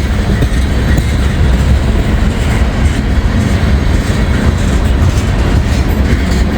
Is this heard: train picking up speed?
yes